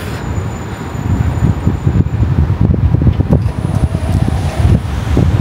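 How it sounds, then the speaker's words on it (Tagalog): Gusting wind buffets a microphone outdoors near Nagano Station, a low rumbling roar that thumps unevenly throughout, with faint road traffic beneath. "Mahangin."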